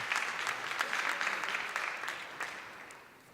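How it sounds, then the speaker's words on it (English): An audience at a European social economy conference claps in sustained applause, a dense patter of many hands that stays fairly even before tapering off toward the end. "Je crois qu'on peut encore applaudir."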